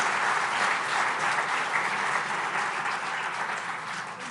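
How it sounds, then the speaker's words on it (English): Thick, even applause from a large audience at a NASSCOM business forum in Bengaluru, honoring Prime Minister Modi, loud and unbroken throughout. "Let's give a round of applause to the Honorable Prime Minister again"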